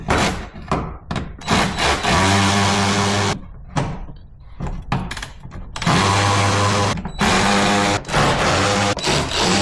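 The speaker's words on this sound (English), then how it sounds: "remove these 10mm bolts" A power tool backs out 10mm bolts holding the plastic underbody cover of a Porsche Cayenne Turbo, with close, loud whirring motor bursts of varying length and short clunks and rattles between them.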